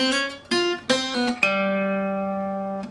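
Guitar picking the opening seven notes of a riff: a few quick struck notes, then a final note left ringing and slowly fading, played close with no voices.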